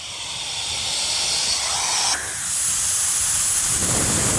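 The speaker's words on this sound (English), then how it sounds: "It is a little mini jet turbo fan" A small, super-powerful mini turbo jet fan blows water off at a truck campsite after a severe thunderstorm, a loud continuous hissing rush that shifts in pitch and intensity partway through, with no talking.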